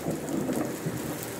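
Thunder rumbles through a thunderstorm with steady rain pattering on a surface, a continuous dense wash of low rolling booms and hiss, fairly close and with no voices.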